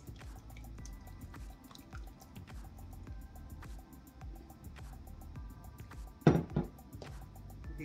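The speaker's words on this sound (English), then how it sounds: "Now I'm going to take my wet mix and pour it right into" Wet batter for chocolate zucchini bread pours into a bowl of dry mix, making soft wet squelching and dripping sounds at close range, with a small clatter near the end.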